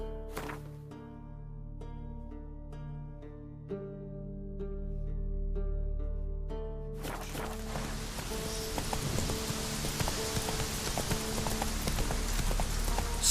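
Roach the horse trotting in The Witcher 3: rhythmic clip-clop hoofbeats under sustained musical tones, then a sudden wash of rain-like noise fills in while the hooves continue.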